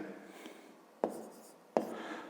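Writing during a fifth-grade math lesson: a faint continuous scratching, broken by two sharp taps, with no voices.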